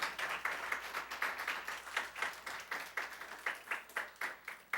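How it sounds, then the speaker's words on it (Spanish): Church congregation clapping in rhythm after a call to praise, a fairly quiet, steady series of hand claps at a regular beat with no talk over it. "Démosle un aplauso al Señor por eso."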